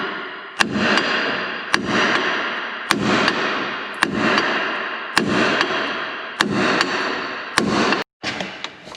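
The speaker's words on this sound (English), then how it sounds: "we'll grab the hammer and just smash this ball joint out" Hammer blows knocking out a ball joint on a 2004–2008 Ford F150 suspension: eight loud, sharp metallic strikes at roughly one-second intervals, each ringing briefly, close up with no talking.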